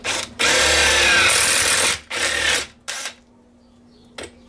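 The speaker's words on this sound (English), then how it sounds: "I'm going to go ahead and drill this hole here." Power drill boring a hole through hollow aluminum solar panel leg stock, loud high-pitched whine in three bursts of decreasing length, ending with a brief faint tap.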